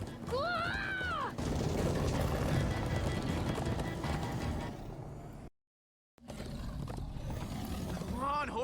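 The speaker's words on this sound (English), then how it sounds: "Come on, horses!" Horses gallop in Minecraft Story Mode, a steady clip-clop running beneath loud game music and shouting voices, breaking off for a moment of silence before the hoofbeats and commotion return.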